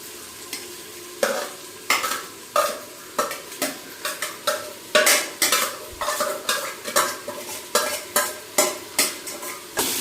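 Spoon or spatula stirring mushrooms marinated in yogurt and garam masala into biryani masala in a pan, a steady run of close scraping strokes over a soft sizzle, with no talking.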